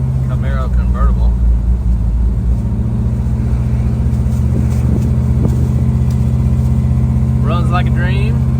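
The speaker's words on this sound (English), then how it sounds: "Cruising down Highway 30A in our 69 Camaro Convertible." A 1969 Chevrolet Camaro convertible with 3-inch exhaust and an X-pipe cruises down a coastal highway in Florida, a steady low engine drone running throughout while a person talks over it.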